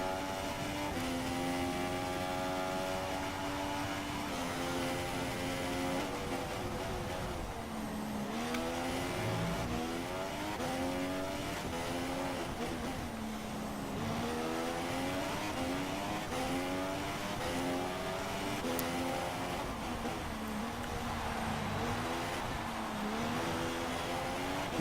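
A Formula 1 race car engine in the F1 2016 video game, heard onboard during a lap, screams loudly and continuously, its pitch climbing and dropping through gear changes and braking zones, with no talking over it.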